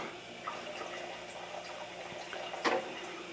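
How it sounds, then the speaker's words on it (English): Water from a water softener pours into a septic drain, a steady close rushing and trickling wash that runs the whole time and swells briefly near the end. "you can also hear the water pour out in the drain to the septic when I have it lifted up"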